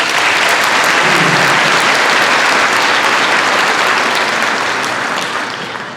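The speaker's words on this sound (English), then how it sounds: "Let's give them a round of applause" A large audience at a high school graduation ceremony applauds loudly and continuously, a dense wash of clapping that holds steady and then begins to fade near the end.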